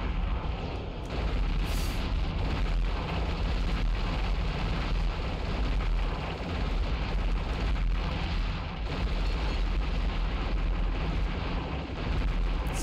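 Nuclear bomb explosions during a final boss fight in the video game Future Cop L.A.P.D., a continuous loud, rumbling roar of blasts with dense low-end booms and crackling debris, sustained without pause.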